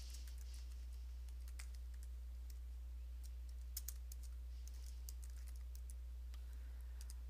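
Typing on a computer keyboard while entering text fields in Photoshop: scattered quick key clicks, in short bursts and single taps, fairly faint over a steady low hum, with no talking.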